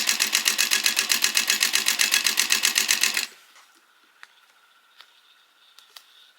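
A sewing machine stitches a seam on a grocery tote bag, a fast steady run of mechanical needle beats for about three seconds, close and loud, then it stops, leaving quiet with a few faint clicks.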